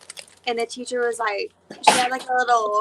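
A single sharp sneeze bursts out close by in the middle of casual conversation, with people talking just before and right after it.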